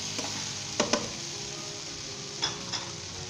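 Potatoes being stirred and mixed in a pot for Sindhi pulao, soft sizzling under a few scraping spoon strokes against the pot, quiet and close with no talk.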